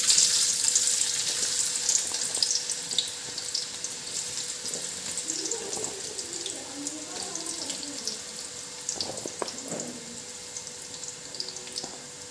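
Jackfruit slices deep frying in oil for chakka chips, a steady broadband sizzle running throughout with a few low clatters and scraping sounds mid-clip, no voices.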